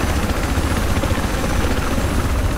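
In the Battlefield 4 video game, a helicopter's rotor and engine roar loud and close as a dense, steady whirring throb with no gaps.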